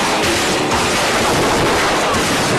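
Gunfire in an action film plays as a loud, dense, continuous barrage of shots and blasts that fills the whole moment without letup.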